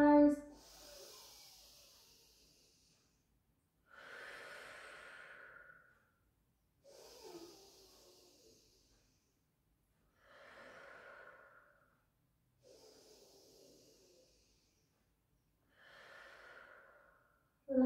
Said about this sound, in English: Inhale, let the belly rise.